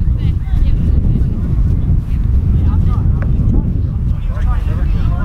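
Strong outdoor wind buffets the microphone at a local sports match, a loud, continuous low rumble throughout, with people talking faintly beneath it.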